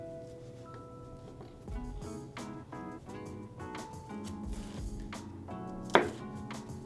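Knife chopping a pepper into very thin strips for a flatbread pizza topping, a series of close, fairly soft knife taps on a board with a sharper knock near the end, over a faint background hum.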